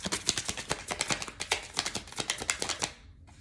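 Rapid, crisp clicking and flicking from a deck of cards being shuffled, a quick rhythmic patter of about two dozen taps close by that stops abruptly.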